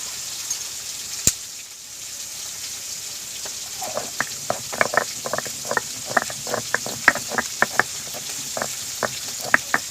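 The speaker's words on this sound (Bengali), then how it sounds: "শিলের মধ্যে দিয়ে অল্প অল্প করে কিন্তু বেটে নিচ্ছি" Ridge gourd peel is ground on a stone grinding slab, starting quiet after a single sharp knock, then a run of rhythmic scraping, rattling strokes of the stone back and forth, close and moderately loud, with no talking.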